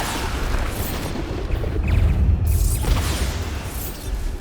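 Explosions from the Bombarda spell in the game Hogwarts Legacy rumble with a heavy, continuous low boom, swelling in the middle with crackling bursts over a dense roar.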